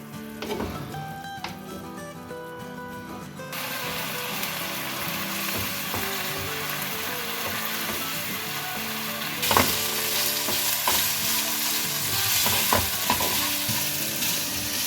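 Chicken cooking with lemon juice, chili sauce and soy sauce sizzles steadily in a pan while being stirred, with a continuous loud fry hiss and scattered scraping clicks, louder and brighter in the second half.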